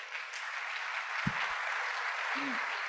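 Conference audience applauding a doctor after her presentation on artificial intelligence, a steady even wash of clapping from a hall, with a couple of brief low thumps partway through.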